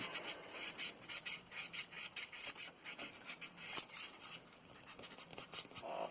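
An engine sealing surface on a 2002 Xterra 3.3 is hand sanded with 600-grit sandpaper during a cam seal replacement, a steady run of close, quiet rasping strokes in an even back-and-forth rhythm.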